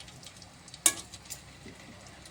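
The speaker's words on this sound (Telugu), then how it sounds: "డీప్ ఫ్రైకి సరిపడా నూనె పోసుకున్నాం కదా, స్టవ్ ముట్టించుకొని ఇంట్లో ఒక్కొక్కటి వేసుకుందాం" Chakodilu snacks dropped one at a time into hot oil for deep frying, giving a faint, steady sizzle with one sharp splash-like burst near the start.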